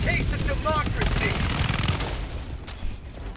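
Bursts of automatic gunfire in Helldivers 2, fighting off swarms of Terminid enemies with a Bile Titan nearby, rattling loudly and densely before easing off toward the end, with a voice talking over the shooting.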